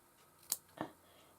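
Small scissors snip notches into the curved edge of a cushion cover fabric, two quick, distinct cuts about a quarter second apart in a quiet room.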